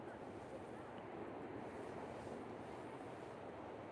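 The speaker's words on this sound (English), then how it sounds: "Out here at the beach." Waves at the beach wash in a steady, broad hiss with low rumble and some wind noise, constant and fairly faint throughout, with no clear voice.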